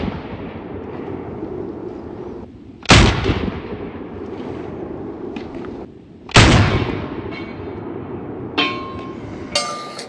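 Panzer Arms AK Twelve semi-auto shotgun firing slugs and double-aught buckshot at bottles and steel targets on an outdoor range: two loud, sharp blasts about three seconds apart, then two fainter impacts, with steady background noise throughout.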